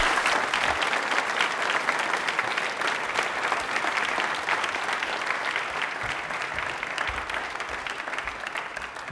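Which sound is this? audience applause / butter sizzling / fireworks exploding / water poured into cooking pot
audience applause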